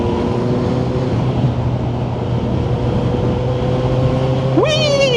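A Kawasaki Z900 motorcycle fitted with a Yoshimura exhaust drones at a steady cruising pitch under rushing wind while riding, then revs up sharply near the end.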